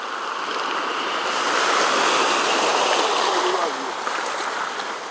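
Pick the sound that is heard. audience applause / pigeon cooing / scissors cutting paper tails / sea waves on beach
sea waves on beach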